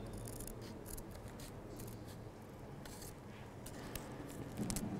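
Scissors snipping paper during Chinese New Year paper cutting of a small ox figure, a steady run of soft, close cutting and rubbing sounds over faint background hiss.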